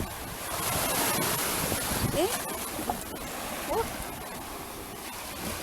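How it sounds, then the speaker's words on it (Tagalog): Broadband rushing noise of sea waves washing in at a beach resort in Digos, Davao del Sur, Philippines, fills the scene, with faint voices briefly audible in the background. "Yung wave ng dagat."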